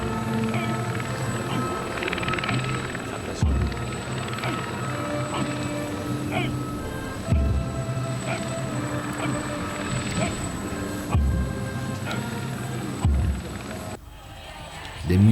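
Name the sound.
airplane of the King of Spain arriving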